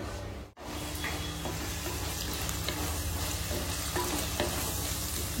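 Onions frying and being stirred in a pan while making chicken tikka biryani, a steady close sizzle with scraping stir strokes throughout, briefly cut near the start, with no talk.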